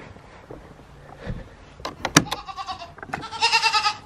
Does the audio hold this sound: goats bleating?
yes